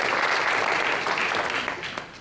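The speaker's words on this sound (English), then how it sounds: "can we give a round of applause for Angela, Pebbles, and Matt?" An audience at a 2026 State of the City event applauds in a dense, steady burst of clapping that fades slightly toward the end.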